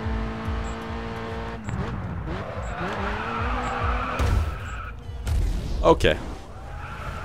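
Tires squeal as a race car in a video game skids and spins out over engine roar, with a sharp crunch near the end and a brief spoken word early on.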